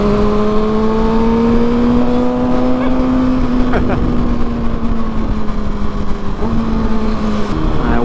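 A motorcycle engine holds a steady, strong drone close by during wheelies on a street, its pitch rising slightly and easing off, loud and continuous throughout.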